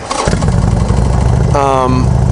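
A Hammer Performance 1275 kit motorcycle engine cranks and catches, settling into a loud, steady rumbling idle with a brief rising whine partway through, close to the mic.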